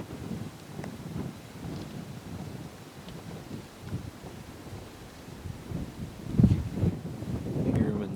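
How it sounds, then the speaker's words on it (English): Strong wind gusts across open country on the Alaska Peninsula, a constant rumbling buffet on the microphone with louder surges near the end. "Pretty windy, so it's hard to hear."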